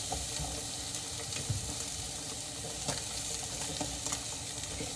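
Vegetables sizzle and fry steadily in a pan while being tossed around, a continuous soft crackle with small stirring bumps and no talking.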